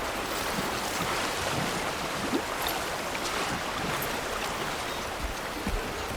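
Steady rushing water with a wind-like wash as a character wades through a stream in Death Stranding 2, a constant near sound with small splashes and no voices.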